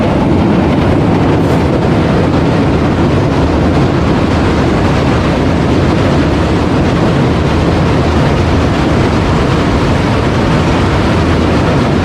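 The Sir Syed Express train crosses the Alexandra Bridge over the Chenab River, a loud, continuous rumble of rail cars rolling over the bridge that stays close and steady throughout, with no voices.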